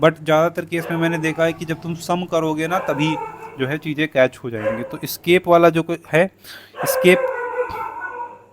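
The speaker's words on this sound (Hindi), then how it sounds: "पीछे कुत्तों की आवाज़ आ रही है" Dogs bark and howl faintly in the background while someone talks steadily over them in the foreground.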